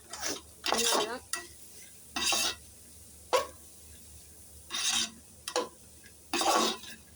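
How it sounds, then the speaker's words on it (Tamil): A spoon stirs kootu in a cooking pot in several separate bursts of scraping and clinking, close and fairly loud, with quiet pauses between them and no voices. "நல்லா கிண்டியாச்சு."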